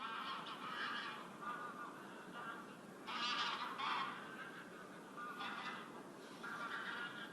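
Geese honk on water at night, a dense chorus of overlapping calls rising and falling in bursts over a steady wash of flock noise, moderately distant.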